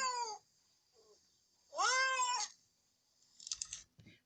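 A cat meows twice, short and then longer and clearer, close by in a quiet room, followed by a few faint clicks.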